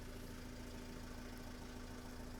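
A cold 2011 Renault Trafic 2.0 diesel van engine idles at slightly raised revs, a constant low hum and faint mechanical rattle, continuous and even throughout, no voices.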